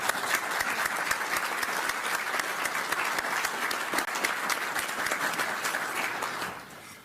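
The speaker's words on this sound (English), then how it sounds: "Let's give them all a round of applause." A roomful of people applauds Ukrainian military leaders at a defense session, steady crisp clapping that holds even and then tapers off at the close.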